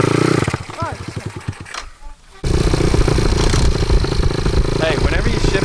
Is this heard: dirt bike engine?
yes